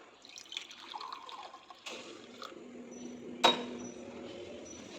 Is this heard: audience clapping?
no